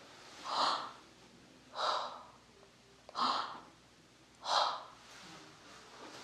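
Four slow, breathy exhalations imitated by a voice, evenly spaced with short pauses between, close and fairly soft, with no words spoken.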